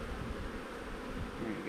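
Honey bees buzzing steadily from an open hive during an inspection, a dense, continuous close drone with no voices.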